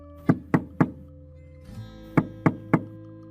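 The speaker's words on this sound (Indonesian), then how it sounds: "dia pun mengetuk pintu rumahnya." Knuckles rap on a house door at night: three firm, evenly spaced knocks, a short pause with a soft shuffle, then three more knocks, close and loud with no voices.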